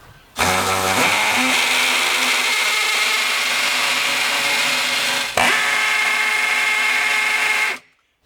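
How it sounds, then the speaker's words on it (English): Battery hammer drill with a masonry bit boring into a brick wall, a loud, harsh screaming whine that starts abruptly, runs steadily for about seven seconds with one brief dip partway through, then stops. "we can start the drill off, and you'll know if you're on the right setting because it makes a horrible screaming sound"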